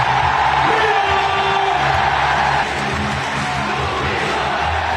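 A large crowd at Wankhede stadium in Mumbai cheers Lionel Messi, a dense, continuous roar of voices and whoops with a broad wash of noise, steady and unbroken, slightly dropping midway.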